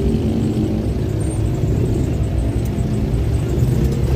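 Continuous low engine rumble of congested street traffic, cars and parked and passing motorbikes idling and creeping along a busy road lined with vendors, steady and fairly loud with no voices.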